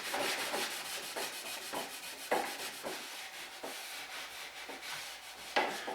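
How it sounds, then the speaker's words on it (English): A cloth rubs over freshly finished wood, wiping off excess finish in quiet, rhythmic strokes, each one a soft scrubbing swish. "Don't forget to wipe the excess off after a few minutes"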